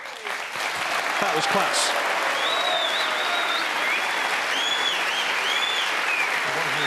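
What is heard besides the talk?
snooker crowd applauding a shot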